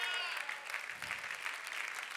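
A church congregation claps together during a worship service, a dense, steady patter of many hands that fills the room for the whole stretch.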